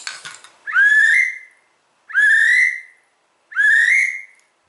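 A Primos 6-in-1 duck call is blown in three separate drawn-out whistling notes, each rising then holding, spaced evenly with short silences between, clear and close.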